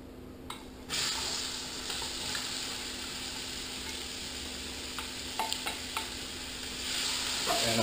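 Chopped onions hit hot oil in a pan while cooking Louisiana fish sauce piquant, a sudden loud sizzle that settles into a steady frying hiss, with occasional stirring clinks and scrapes near the end.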